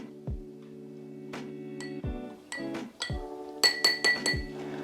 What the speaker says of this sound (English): Give it a little mix, just to stir it all around.